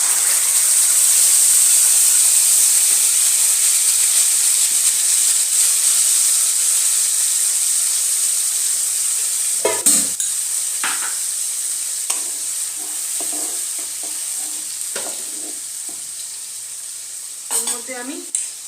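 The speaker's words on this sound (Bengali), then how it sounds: "তেলটা আমার গরম হয়ে গেছে, আমি যে মশলাটা পেস্ট করে নিয়েছিলাম সেই মশলাটা এর মধ্যে দিয়ে দিলাম।" Spice paste hits hot oil in a kadai while mushrooms are cooked, giving a loud, steady sizzle and hiss that slowly softens, later broken by a few clanks and scrapes of stirring.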